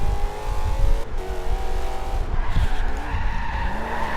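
Car drifting in Forza Horizon 2, with loud continuous tire squeal and skidding over a revving engine, held throughout the short run.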